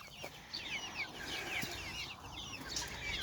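Several Salmon Faverolles chickens cluck and murmur softly at a distance, with overlapping calls against a steady outdoor background.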